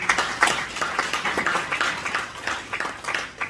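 Audience applause at a talk honouring a Lord Mayor, clapping from a small gathering with uneven, pulsing bursts of hand claps at moderate loudness.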